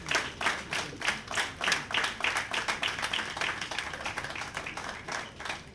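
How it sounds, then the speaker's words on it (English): Rhythmic, evenly spaced clapping from a small group at a book launch about women kings in Yorubaland, a steady beat of distinct claps that slowly softens. "a resounding round of applause for her"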